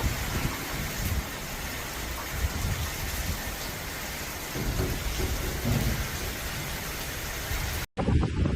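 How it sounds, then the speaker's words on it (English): Heavy rain pours down during a storm in Tenerife, a dense, loud, continuous hiss with low rumbling underneath that breaks off abruptly near the end. "Heavy rain continued to affect Tenerife, with the northern and metropolitan areas receiving significant precipitation."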